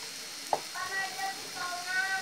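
A spoon stirs sautéed cassava leaves (oseng daun singkong) in a pan, giving a soft sizzle with one sharp scrape and faint tonal squeaks over a short stretch.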